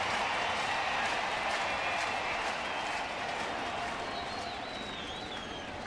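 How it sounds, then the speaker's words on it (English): A large crowd applauding and cheering at a Pittsburgh Pirates versus St. Louis Cardinals baseball game in a stadium, a dense, sustained wash of clapping heard from a distance, slowly fading toward the end. "This crowd wants it to happen now."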